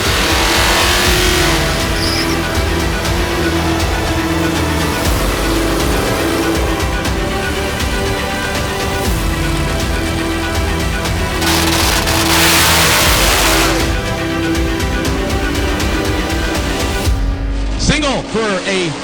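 Ford Cobra Jet Mustang on a drag strip at full throttle: a loud, sustained high-revving roar that holds steady throughout, with an announcer's voice running over the engine noise.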